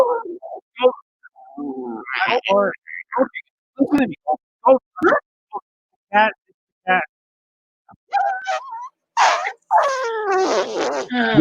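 A cat makes a string of high, squeaky calls and chirps in short, separate bursts, close and fairly loud with quiet gaps between, growing longer and busier toward the end.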